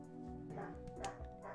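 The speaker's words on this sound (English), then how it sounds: "my dog is distracting me. He's playing behind me and barking like a crazy mean guy and sounding very, very angry" A dog playing nearby gives yips, whimpers and bow-wow barks, faint and somewhat muffled, over a steady tonal background hum.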